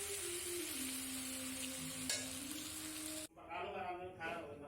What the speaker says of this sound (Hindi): चलिए, अब मैं इसको मिक्स करती हूँ।